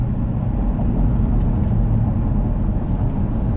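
A 2019 Dodge Challenger R/T Shaker with a six-speed manual drones steadily from inside the cabin while driving, a low continuous rumble with road noise, loud and unbroken throughout.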